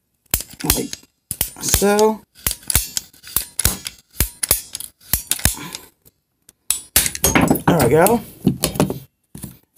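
PVC pipe being cut, giving a series of sharp clicking snaps and short cutting bursts spaced between stretches of someone talking nearby.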